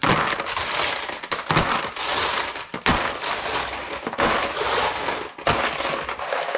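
.308 rifle brass cartridge cases poured into a plastic bowl, a dense continuous clatter and jingle of metal casings tumbling and rattling together, loud and close with brief pauses between pours.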